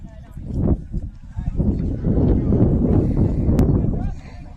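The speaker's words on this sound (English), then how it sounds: "Windy here at the ballpark. You may hear it on our microphones here." Heavy wind buffeting the microphone at a ballpark, a loud continuous low rumble that swells and gusts, with a voice speaking underneath.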